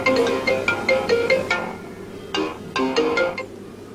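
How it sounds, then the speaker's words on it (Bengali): A mobile phone plays a bright melodic ringtone loud and close, repeating a short tune, pausing briefly, then starting again. "এই অসময় আবার কে ফোন দিল?"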